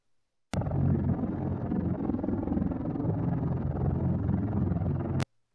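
Hoverboard effect built from Honda Spree scooter recordings: a steady, dense, phasey whooshing hum with high end added, starting and stopping abruptly after about five seconds, loud and alone.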